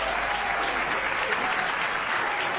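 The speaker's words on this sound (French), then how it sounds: "applaudissez-le bien fort" A studio audience applauds steadily and loudly at a television show event, welcoming a member of the Jam and Roller roller-skating team onto the stage, the clapping dense and continuous throughout.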